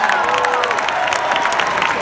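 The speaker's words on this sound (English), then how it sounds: "how about a hand for Jemiah Webster?" A crowd at a Red Sox winter weekend fan event claps and cheers for a reporter, a dense, continuous burst of applause with scattered whoops, loud and close for about two seconds.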